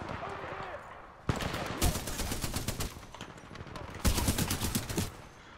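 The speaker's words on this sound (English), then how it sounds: "I'm shooting a lot of grunts at the moment" Sharp bursts of automatic gunfire from the sci-fi shooter Titanfall 2 come in two long, loud rattling volleys with a brief pause between them, over faint game ambience. A voice talks quietly near the start.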